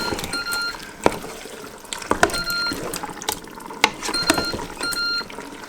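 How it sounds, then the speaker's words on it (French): Broth, chicken or vegetable, poured into a pot of honey-seasoned mixture in a home kitchen, a close running liquid splash with a few sharp knocks and short beeps cutting through. "puis on va ajouter le bouillon."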